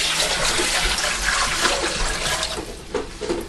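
Water pours steadily into a container to start a corned beef brine of two quarts of water with kosher salt and brown sugar: a continuous, close splashing rush that holds for several seconds.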